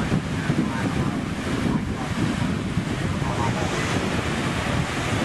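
Ocean surf rolling onto an open, quiet beach on a cruise line's island stop, a continuous broad wash of waves mixed with strong wind buffeting the microphone.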